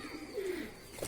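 A freshly caught Nazra pigeon gives one short, soft, low coo, faint and close, with nothing else sounding around it.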